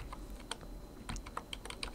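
Soft, uneven keystrokes tap on a computer keyboard at close range, a quick scattered run of clicks over faint background hum, with no voices.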